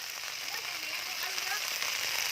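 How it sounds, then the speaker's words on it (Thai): Steady rain falls with a dense, hissy patter throughout, fairly close and even, with faint crackling texture and no clear voices. "ว้ายเสียงฝนมาแล้ว"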